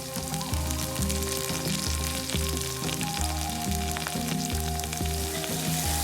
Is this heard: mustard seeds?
yes